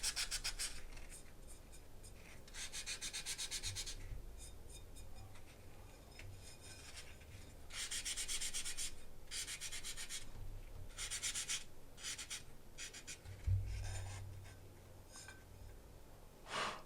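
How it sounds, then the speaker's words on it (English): Dried slip decoration is sanded off a painted ceramic plate in repeated raspy back-and-forth strokes that come in steady bursts, close and moderately loud, with no talking. "I'm just gonna sand off the mistakes."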